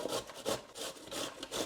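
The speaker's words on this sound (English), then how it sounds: "I'm going to grate it from the thick grate side." Bottle gourd (lauki) rasped on the thick side of a kitchen grater, quick rhythmic scraping strokes about four per second, close and fairly quiet.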